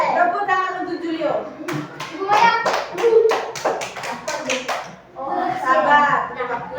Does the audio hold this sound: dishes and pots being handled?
no